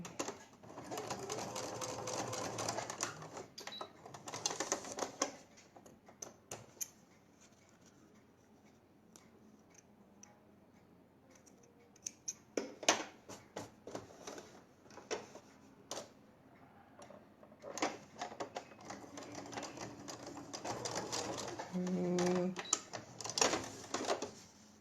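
A domestic sewing machine stitches a patchwork quilt block in several bursts of quiet rhythmic whirring, separated by gaps filled with clicks, fabric handling and someone talking.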